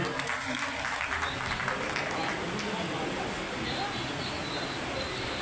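At a Sindhu Samaj Delhi gathering marking Partition Horrors Remembrance Day, a crowd claps loudly and continuously, with a faint murmur of voices under the sustained applause.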